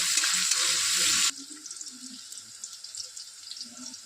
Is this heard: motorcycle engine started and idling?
no